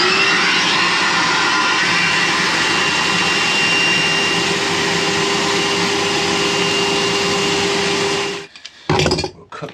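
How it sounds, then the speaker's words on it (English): Aquavac wet vacuum sucking water out of a plumbing pipe, a loud steady whining roar that runs unbroken for about eight seconds, then cuts off abruptly and leaves a brief clatter. "have the aquavac running at the same time to suck the water out of there"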